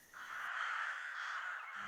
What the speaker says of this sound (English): Crow's a problem in your area.